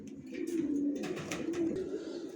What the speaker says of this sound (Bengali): নর কীভাবে ডাকতেছে জোড়া নেওয়ার জন্য